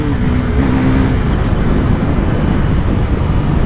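A Bajaj Pulsar NS400Z motorcycle rides off with a loud, continuous engine roar and wind rumble close to the rider, with no talk.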